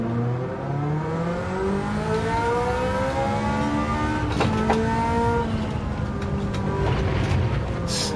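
A Ferrari F40 race car's engine howls through gear changes while racing at Suzuka in a JGTC event, a loud, steady onboard roar with pitch climbing and dropping over several shifts, no talking.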